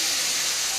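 Spice paste hits hot oil in a pan while cooking a vegetarian chana dal, and a bright, steady sizzling hiss carries loud and close through the whole short moment.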